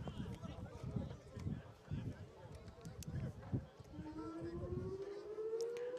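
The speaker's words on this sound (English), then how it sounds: "Sirens going off in Fort Dodge." A rising noon alarm siren in Fort Dodge, Iowa wails partway through, sustained and climbing in pitch, underneath ongoing football broadcast commentary and crowd noise.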